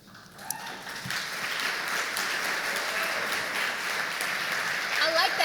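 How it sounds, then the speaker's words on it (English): An audience claps and screams at a community foundation's annual meeting, a dense, steady wash of applause and cheering that lasts the whole stretch, with voices mixed in. "They're like clapping and screaming."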